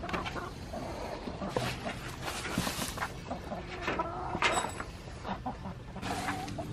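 Chickens clucking and fussing in a backyard pen, with scattered squawks and rustling at fairly close range under low background noise.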